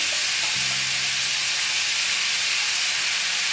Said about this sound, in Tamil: எண்ணெயிலே நல்லா சாம்பார் பொடி ஒரு வாட்டி வதக்கிட்டு